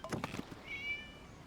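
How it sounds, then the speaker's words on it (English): A cat meows once in the video game Genshin Impact, a short rising-and-falling tone that follows some brief soft thuds and rustles. "It was just a cat."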